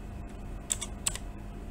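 Quiet typing on a computer keyboard, two or three light clicks in quick succession against a soft background hum, close and without speech.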